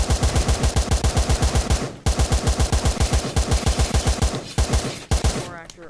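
Rapid semi-automatic gunfire in the video game Blade & Sorcery: Nomad, loud close shots in fast regular bursts with two brief pauses, ending in a short electric crackle.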